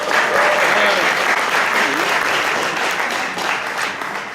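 A steady round of applause fills the room at an open mic poetry show in San Antonio, loud and sustained, with a voice briefly calling out over the clapping.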